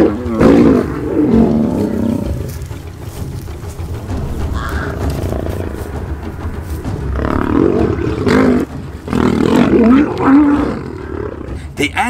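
Lions roar loudly and close by in repeated drawn-out bellows, with deep grunting between them and a voice talking over parts of it.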